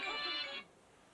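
A short electronic mobile phone ring, bright and tonal, sounding once for about half a second before cutting off into quiet.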